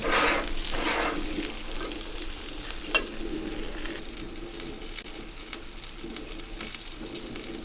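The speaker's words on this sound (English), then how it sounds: "what I will do now is to melt the butter" Butter melting in a pan on a Pit Boss grill, making a steady close sizzle and crackle with occasional stirring scrapes and a single sharp clink, no talk.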